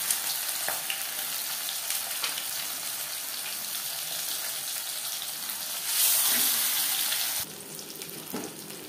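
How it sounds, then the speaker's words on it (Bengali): Fish frying at medium heat in hot mustard oil, giving a continuous close hiss with scattered small pops and a brief louder surge of sizzling, no voices. "হাই ফ্লেমে তেল আমি গরম করে নিয়েছি। মাছ ভাজবো মিডিয়াম ফ্লেমে।"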